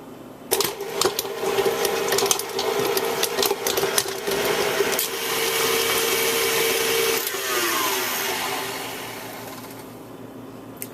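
An electric mixer creams six tablespoons of unsalted butter for a gluten-free, egg-free cake, a loud whirring motor with rattling beaters that runs steadily, then winds down and stops near the end.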